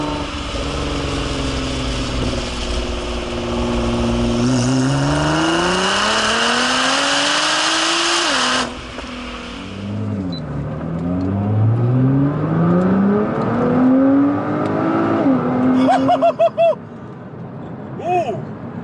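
A Nissan GTR accelerates hard from inside the cabin, its engine note climbing through gears with a sharp shift break, then revving up again in a rising roar, with voices faintly underneath.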